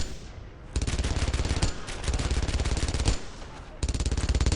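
A German machine gun firing in the video game Brothers in Arms: Earned in Blood, with loud close bursts of rapid rhythmic shots broken by short pauses.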